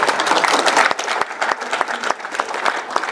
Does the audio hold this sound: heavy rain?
no